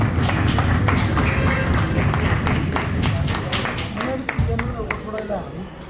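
An audience at a political anniversary gathering in Hafizabad, Pakistan, claps steadily for a speaker being introduced, a loud patter of hands under an announcer's amplified voice that fades slightly toward the end.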